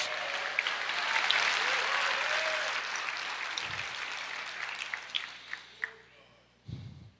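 A church congregation bursts into sustained applause after a preacher's call to praise during a sermon on martyrs, the clapping swelling then gradually thinning out with a few scattered claps near the end.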